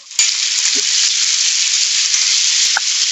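Curry leaves drop into hot oil for mango pulihora and burst into a loud, steady sizzle that starts abruptly and holds throughout, with a couple of faint clinks of a utensil.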